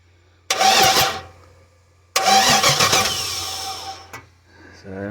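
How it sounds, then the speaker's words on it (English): A 1959 Chevrolet Biscayne engine cranks over in winter cold, two loud sustained bursts of starter grinding close by, the second longer, with a faint idle hum underneath and no talking. "And we got it cranking here"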